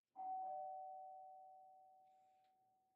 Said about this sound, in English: rings the doorbell